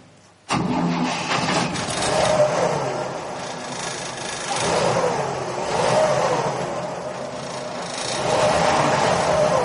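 A Toyota FJ40 Land Cruiser engine starts and settles into a steady mid-pitched idle, swelling with a couple of light revs, loud and close with no talk.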